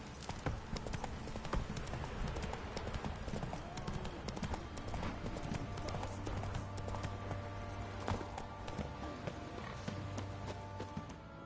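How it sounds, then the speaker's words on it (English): Horse hooves clip-clop at a steady gallop through the whole stretch in The Witcher 3 game, dense and close over ambient game sound and background clutter, with a voice faintly present. "Run, Roach."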